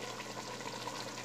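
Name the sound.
pouring goat broth (yakhni) into frying trotters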